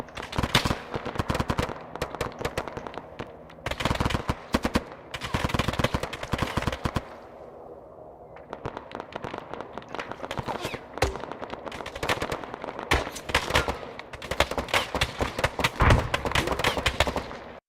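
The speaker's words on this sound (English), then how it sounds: "Taking heavy suppressive fire here." Heavy suppressive gunfire in the video game Arma 3: dense bursts of automatic fire and single shots crackle almost continuously, with a brief lull midway before the volleys resume loud and close.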